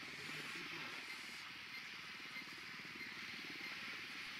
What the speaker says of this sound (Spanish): Hay solamente un helicóptero.